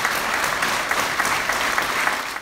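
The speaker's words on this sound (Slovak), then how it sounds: "Návštevníci koncertu neskrývali nadšenie a účinkujúcich odmenili búrlivým potleskom." Enthusiastic audience applause after a Christmas concert, a dense continuous wash of clapping that stays loud and steady throughout with no voices.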